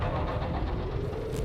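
Mason condensers spooling up in the video game Dune: Awakening, heard as a steady, loud mechanical drone with a low rumbling hum that holds even throughout.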